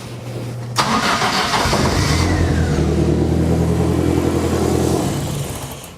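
A 2002 Turbo car engine cranks and catches, revs up under a little gas with a rising whine, holds a rough, loud idle for a few seconds, then sags and dies out.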